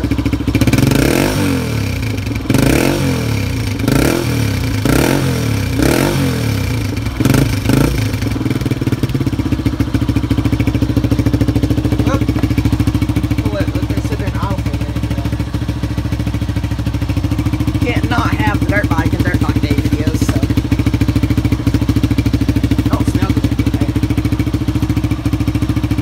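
A motorcycle engine warming up, first revving in several pulsing bursts, then settling into a steady, loud idle drone that runs for the rest of the stretch.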